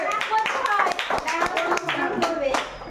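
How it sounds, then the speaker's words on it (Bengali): Hand clapping at a wedding reception gathering, a run of sharp claps mixed with steady chatter and voices talking over them. "হাততালি দাও। হাততালি হাততালি।"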